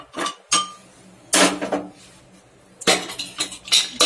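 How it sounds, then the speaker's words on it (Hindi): Metal clattering on a pressure cooker in a home kitchen: sharp, close knocks and scrapes of steel against the cooker in irregular bursts, with quiet gaps between them and no voices. "कुकर पे खटखट नहीं करते।"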